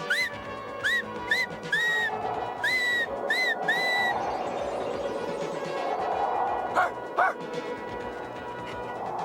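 Several sharp, rising whistles are blown in quick succession to call an animal, then two more a few seconds later, over steady windy background noise outdoors.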